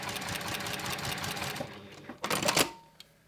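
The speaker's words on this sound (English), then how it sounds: "I could just place my fabric like this, stitch it, and basically follow the edge of the fabric with the guide." A Juki TL2200QVP sewing machine with a walking foot and guide bar stitches fabric in a fast, steady mechanical patter. The machine then slows and stops with a few quieter clicks near the end, recorded close up with no talk.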